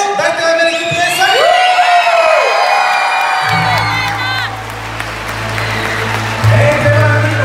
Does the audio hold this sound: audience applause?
yes